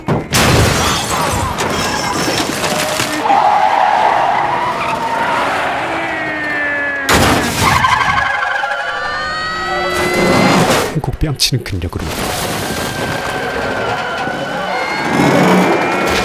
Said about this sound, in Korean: 질주해 오는 8톤 버스를 세워버린다